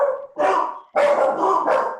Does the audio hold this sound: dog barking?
yes